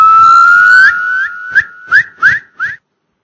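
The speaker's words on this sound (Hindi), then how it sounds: "कानों में पड़ी एक सीटी की आवाज" An eerie whistle in a horror audio story: a long, loud, steady tone, then four short rising whistle bursts, heard alone before sudden silence.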